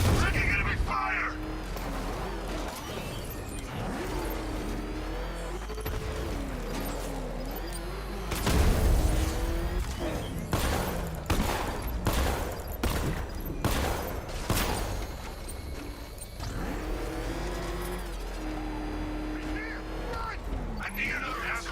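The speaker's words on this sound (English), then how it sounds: "Taking enemy fire!" Gunfire in the video game Batman: Arkham Knight, a run of sharp shots and booms with a loud cluster in the middle, under steady radio-style voices and game noise.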